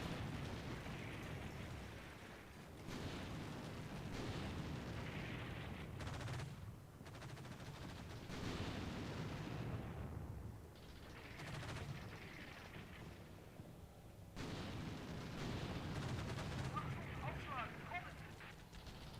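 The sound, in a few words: gunfire in Combat Mission video game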